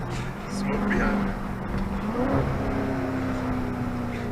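A Dodge Charger Daytona 392 accelerates hard with tires spinning, its engine rising in a rough, building roar with tire noise close by, while people talk over it.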